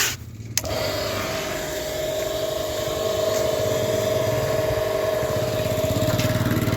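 A washing machine set up to clean a scooter starts after a short quiet moment, then runs with a steady motor whine over a constant low hum, close and unbroken.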